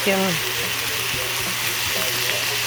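Onions and carrots fry in a pan for pickle soup, a steady broadband sizzle under a voice talking over the cooking, with a low constant hum beneath.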